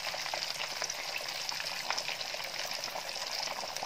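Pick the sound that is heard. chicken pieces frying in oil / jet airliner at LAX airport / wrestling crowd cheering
chicken pieces frying in oil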